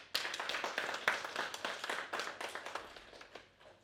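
Audience at a book fair applauding, a short burst of quick, fairly faint clapping from a crowd that tapers off over a few seconds.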